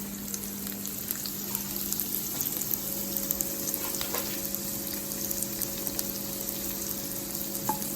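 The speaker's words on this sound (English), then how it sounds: "We got a bit of sizzle in the pan there." Steady sizzling of onions frying in a pan for a burger, a continuous crackling hiss with a few soft pops, no talking.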